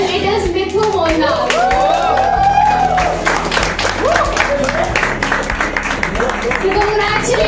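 Audience at a young bartenders' competition, the MONIN Cup mocktail event, breaks into applause for the participants; clapping sits under ongoing talk and crowd chatter, moderately loud and steady throughout.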